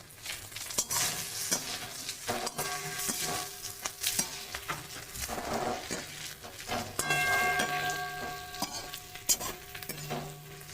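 Fried chicken being stirred in a pan for a dry chicken dish, with a spatula scraping and clattering repeatedly against the metal over a continuous close sizzle.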